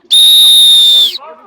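A referee's whistle at an under-16 youth rugby match gives one loud, steady blast lasting about a second, close and clear, followed by faint voices.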